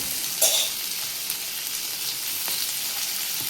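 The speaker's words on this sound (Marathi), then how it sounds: "आता आपण बटाटे टाकून घेऊया चिरलेली" Chopped potatoes tipped into browned onions frying in a pan, a brief bright splash-sizzle at the start settling into a steady close hiss with faint stirring scrapes.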